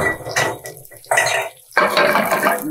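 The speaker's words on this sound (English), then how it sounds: "Go ahead and add our green beans now." Cooked green beans going into a hot cooking pan: a close, bright sizzle and clatter in two bursts separated by a short quiet gap, with faint pan contact sounds.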